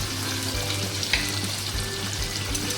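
Ginger paste, salt and turmeric sauté in oil in a pan for a taro and tengra fish curry, giving a steady, close, dense sizzle that runs unbroken with no talking.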